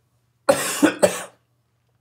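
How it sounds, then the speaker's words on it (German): A person indoors coughs in a quick burst of two or three harsh, close coughs, followed by silence. "Jetzt huste ich mal kurz."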